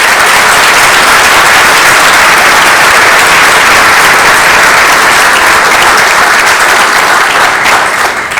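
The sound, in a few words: applause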